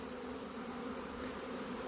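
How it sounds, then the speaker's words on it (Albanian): Faint, continuous buzzing drone of many bees swarming around hives and a bait trap, an even hum with no breaks or voices. "Bletët po hyjnë po dalin tek gjitha për të vendosur se ku do ndalojnë."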